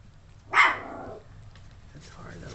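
A Yorkie puppy gives one sharp, close yip-like bark, followed by quieter whimpering and soft movement, with faint talk in the background.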